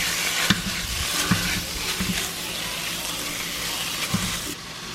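Hamburger meat frying with cooked-down onions in a pan, a steady sizzle and crackle with occasional sharp pops and spoon scrapes, close and fairly loud, for a home dinner.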